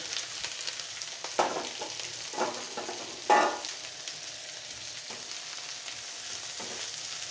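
Snake gourd and salted hilsa fry in a pan with a low, steady sizzle, broken by a few louder bursts as pieces hit the hot oil and get stirred.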